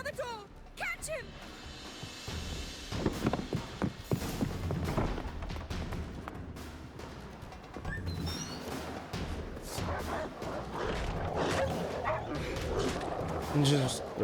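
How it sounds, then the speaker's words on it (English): Dogs bark and yip repeatedly in The Witcher III: Wild Hunt, irregular moderately close barks mixed with whimpers under ongoing game voices and clattering activity. "And just run past the dogs."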